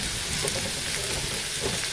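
Loud, close sizzle of onions frying in butter in a pan, a dense steady crackling hiss with no voices.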